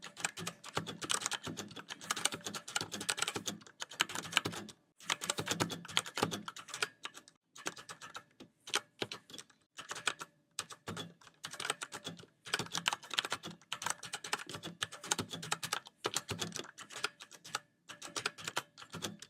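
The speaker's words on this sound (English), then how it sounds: "Let's listen to the keystrokes." Keystrokes on a Spigen ArcPlay mechanical gaming keyboard with PBT double-shot keycaps and PU foam dampening, a fast, steady run of soft clacks in bursts separated by short pauses.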